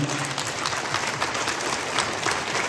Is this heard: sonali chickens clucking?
no